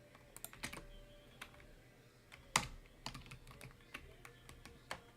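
Keys clacking on a computer keyboard in sparse, irregular bursts, each tap a sharp close click over a faint room hum, with one louder strike partway through.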